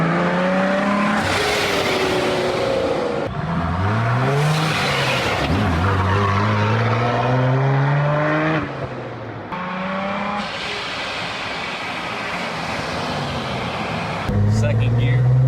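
A rebuilt 2020 Jeep Gladiator Rubicon on big wheels pulls hard along the road, its engine climbing through repeated rising revs and gear changes, loud and close under excited talk from the occupants.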